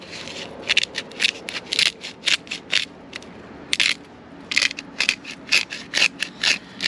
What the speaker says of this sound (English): And some freshly ground black pepper.